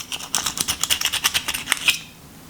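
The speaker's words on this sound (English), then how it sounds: "And then I run my knife sideways." Knife blade pushed sideways through a raw oyster shell: a quick run of dry, gritty clicks and scrapes lasting about two seconds, close and fairly loud, then quiet with no talk.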